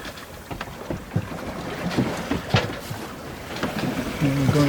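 Sailboat Sara of North Wales under way off Milford Haven and Dale in a freshening wind, with steady rushing wind and water wash, a few soft thumps and a brief voice near the end.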